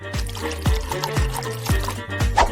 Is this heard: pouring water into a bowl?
yes